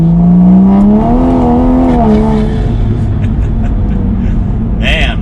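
A Toyota Supra A90 fitted with forged carbon fiber chassis strut braces drives along a road and accelerates, its engine droning steadily from start to finish while someone talks over it.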